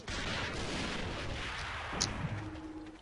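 Thompson M1921 submachine gun firing in the online shooter AVA, a continuous dense rattle of automatic gunfire with muffled booms, steady and moderately loud throughout.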